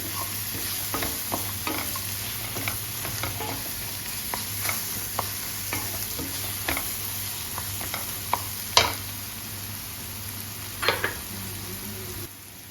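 Masala for chole is fried in oil in a pan, giving a constant close sizzle and hiss, while a spoon stirs and scrapes it in a steady run of small clicks and a few louder knocks against the pan.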